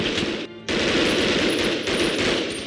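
A rifle guard's gunfire in Medal of Honor: Underground comes as a dense, loud burst of rapid shots that stops for a moment, then continues steadily, with no talk.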